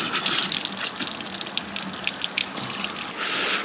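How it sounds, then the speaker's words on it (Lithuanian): Icy cold water splashing and gushing during a morning wash outdoors, a continuous close rushing spatter with small fluctuations, no talking. "Einam biškai apsipraustų lediniu vandeniu"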